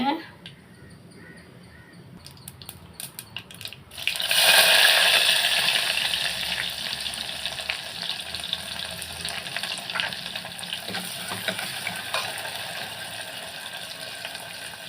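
Mustard, cumin and fenugreek seeds sizzle and crackle in hot oil for sambar, a steady close frying hiss that swells after a few quiet seconds and runs on with small pops.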